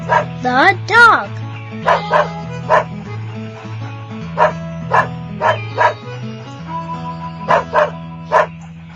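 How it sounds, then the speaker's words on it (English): A dog barks and yips in short, repeated bursts over a steady musical backing, with a few higher whimpering yelps near the start. "The dog."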